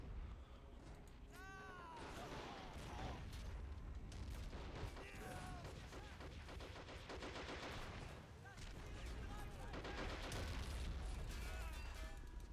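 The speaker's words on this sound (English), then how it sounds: "They are using mortars against me now. There it is. A field howitzer." Mortar and field howitzer fire in the Operation Market Garden battle of the game Men of War: Assault Squad 2: dense, continuous gunfire and heavy booms, with faint whistling shells passing through, loud throughout.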